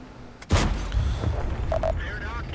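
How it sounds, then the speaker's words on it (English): A single loud tank cannon shot from the video game World of Tanks booms out, followed by a rumbling tail and a couple of faint electronic beeps. "Very nice snipey shot there into the TVP VTU, the tier 8 Czech medium tank"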